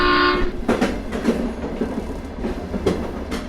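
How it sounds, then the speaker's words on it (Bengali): A train rolling along at night, used as an eerie horror-story effect: a short horn blast opens, then a continuous rumbling run with rhythmic clickety-clack wheel beats, fairly loud and close with no voices. "ট্রেনটা দুলতে দুলতে এগোচ্ছে।"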